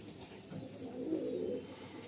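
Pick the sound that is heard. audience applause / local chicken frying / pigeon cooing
pigeon cooing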